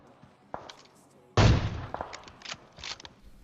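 Gunfire in the mobile battle royale game PUBG Mobile, one sharp loud shot followed by a few lighter pops, with a voice talking faintly around it.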